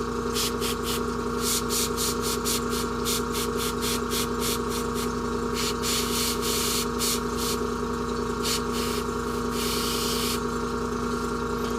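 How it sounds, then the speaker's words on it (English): An airbrush spraying paint in short repeated bursts over a steady loud hiss and humming compressor, pulses coming in quick irregular runs and then one longer spray near the end. "I'm trying to get the smaller little lines with the airbrush."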